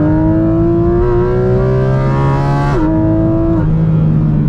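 A Porsche GT4 RS engine revs high and loud above 6000 rpm, pitch climbing steadily, then dropping sharply at a gear change before pulling again, on the Kaunertal Glacier Road.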